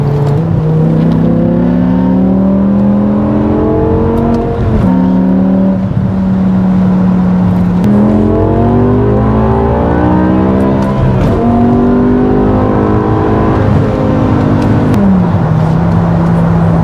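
BMW M5 E60 with its V10 engine revving hard, each high-pitched shriek climbing and dropping between paddle-shift gear changes, loud, close and continuous.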